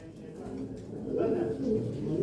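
A flock of birds calls steadily, soft cooing and chatter from a group kept together, moderately close and growing a little louder toward the end over a low background murmur.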